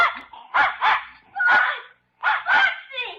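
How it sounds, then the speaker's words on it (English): A dog barks repeatedly as a door opens to let it out, a series of sharp close barks and yips in quick bursts, loud and clear with a short pause midway. "I'm just going to open the door and let Spot out."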